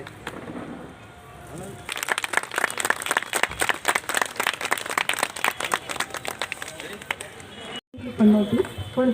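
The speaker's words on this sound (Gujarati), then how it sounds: "તાળીઓના ગડગડાટથી વધાવી લો" An audience claps loudly and steadily for several seconds at a YouTubers' meetup, dense and close, breaking off near the end as a voice begins speaking.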